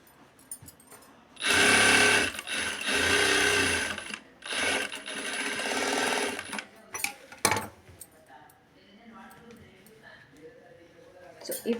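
A sewing machine runs in two long bursts as it stitches the lining of a blouse, loud and close. Shorter clicks and handling noises follow, and a person speaks between the runs.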